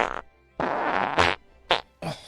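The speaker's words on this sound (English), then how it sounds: "he was soon awoken by what sounded like an old man fart" A loud, drawn-out fart sound effect, blaring and brassy, comes in several separate bursts of different lengths and stands alone with no talking.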